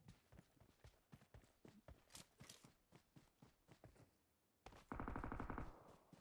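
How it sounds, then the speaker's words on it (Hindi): Gunfire in the mobile battle royale game BGMI, heard as a quick run of faint, sharp shots in bursts, followed by a pause and then a louder steady buzzing tone. "अब भाई हमें एक और गन साउंड यहाँ पे सुनाई देता है।"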